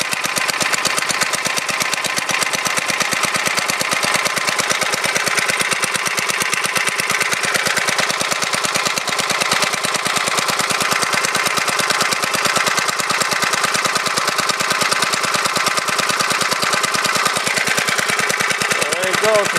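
A go-kart's small engine runs right after a cold start, a loud, rapid, even putter of firing strokes that continues steadily and close by with no clear talk over it.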